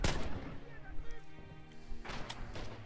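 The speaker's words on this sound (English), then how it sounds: "I'm shooting your guys." Gunshots in the World War II shooter Red Orchestra 2, with several broadband cracks at the start and again near the end, set against continuous game noise and some voices.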